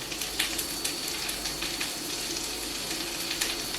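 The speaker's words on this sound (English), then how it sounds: "It's just sizzling." Salmon fries in warm oil in a pan, giving a continuous crackling sizzle with small pops, steady and close throughout, with no talking.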